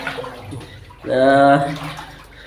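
Water runs steadily for about a second with a tonal, filling-tub quality, while people talk nearby before and after.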